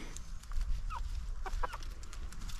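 Chickens cluck softly in a farm coop during morning chores, a few short calls scattered over a low, steady background rumble.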